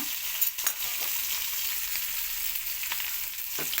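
Chicken pan-frying in a shallow pan after being turned over, a close steady sizzle of hot oil with a few brief louder stirring scrapes near the start and end.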